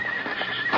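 A horse gives a short, clear whinny in a Western audio drama set outside a schoolhouse, with faint hoof clops underneath. It is close, brief and heard alone.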